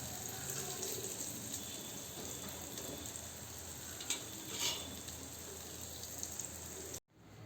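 Tomato and beetroot vadi shallow frying on a low gas flame, a steady soft sizzle with faint occasional scrapes, then a brief cut near the end.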